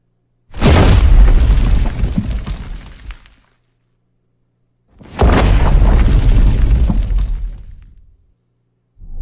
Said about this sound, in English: Sounded like rubble falling, like an earthquake, and then like stuff falling off of buildings